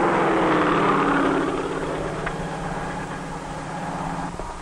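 A helicopter's rotor beats steadily over a droning engine, loud at first and easing off slightly.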